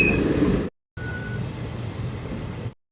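A passenger train on the Visakhapatnam to Araku line, heard from on board as a steady low rumble of the carriage. The sound cuts out briefly, then resumes.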